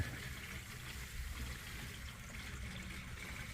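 Water trickles steadily into a newly installed BORTSA boiler heating system with a heat accumulator tank, a soft continuous hiss and gurgle held at an even, low level throughout.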